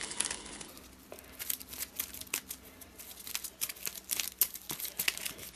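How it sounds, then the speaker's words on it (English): Arkham Horror LCG playing cards being shuffled by hand, a quiet run of crisp riffling and crinkling bursts with soft flicks repeating unevenly throughout, close up and unaccompanied by talk. "I have to put up with my crappy shuffling"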